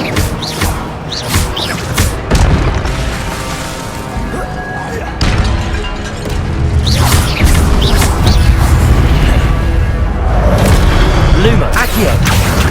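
An Incendio fire spell bursts repeatedly in Hogwarts Legacy, loud whooshing blasts and crashing impacts coming in quick succession over game effects and a speaking voice.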